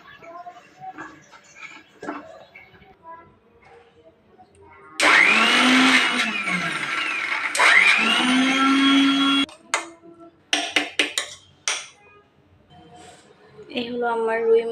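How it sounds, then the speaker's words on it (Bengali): An electric kitchen blender whirs loudly through fish, onion, coriander leaves, green chilli and salt for a fish mash, running in two bursts with brief stops, and a person talks before and after. "এখন আমি এটা ব্লেন্ডার করে নেব।"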